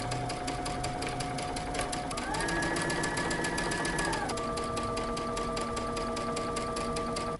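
Sewing machine stitching the bottom hem of a homemade T-shirt, running steadily and loudly without a break from start to finish.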